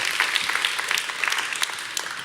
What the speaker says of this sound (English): Round of applause to these folks.